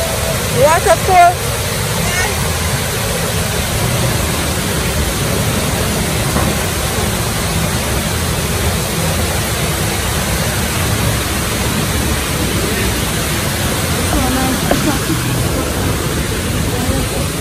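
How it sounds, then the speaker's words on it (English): Constant broadband rush of falling water, loud and unbroken, with voices talking faintly over it. "Yeah. Waterfall."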